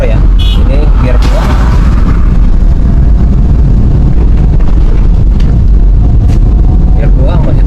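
A Daihatsu Grand Max campervan climbs a slippery uphill road in second gear during rain, with a loud, steady engine drone buried under a constant rushing roar of wind and road noise.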